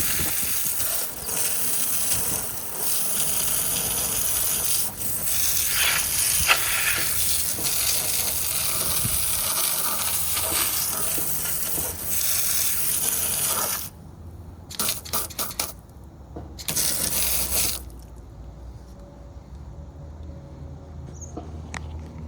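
Water spray rinsing acidic wheel cleaner off a car wheel, a loud, steady hiss running for several seconds, then breaking into short bursts with quiet gaps as the spray stops and starts.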